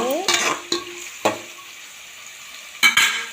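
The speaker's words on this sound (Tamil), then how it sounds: "நல்லா பொன்னிறமாக வர மாதிரி வதக்கிக்கணும்" Chicken gravy ingredients sautéed in a pan until golden: a soft steady sizzle with four sharp, loud spatula scrapes spaced unevenly across a few seconds.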